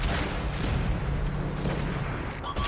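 Heavy cannon fire in a tank combat video game rumbles as a steady, dense low boom throughout, loud and close, with a brief mechanical clatter near the end.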